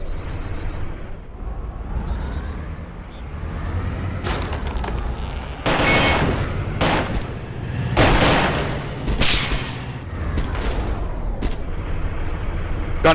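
Loud gunfire from a DayZ shootout, several sharp shots and short bursts cracking out between about 4 and 10 seconds over a steady rumbling background, with a few fainter shots later.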